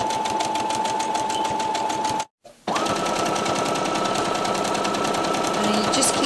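A sewing machine stitching around a baby's dribble bib: a loud, steady, rapid mechanical chatter heard up close, broken by one brief stop before it starts again and carries on at an even pace.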